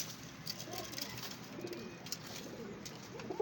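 Pigeons kept by a fancier for flying shows, among pied and crested birds, cooing softly in low repeated murmurs under steady outdoor background noise, with no one speaking.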